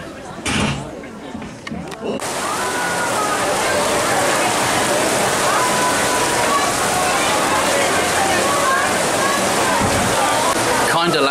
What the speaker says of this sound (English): Sudden downpour.